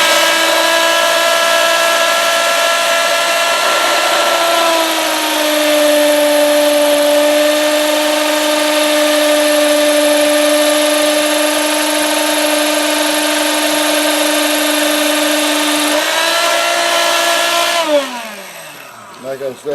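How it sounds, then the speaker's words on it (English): Power drill boring holes in granite, run dry without water: a loud, steady, high whine with a strong tonal hum that dips slightly in pitch under load, holds for most of the clip, then spins down near the end. "So now I'm done with the saw. Well, with this, I mean the drill."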